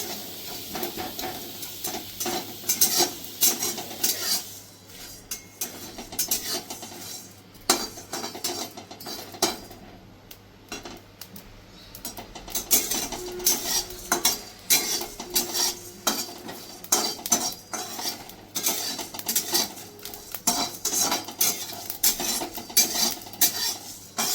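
Repeated clinking and scraping of a utensil stirring whole spices in a pan over a soft frying sizzle, with a brief quieter pause midway.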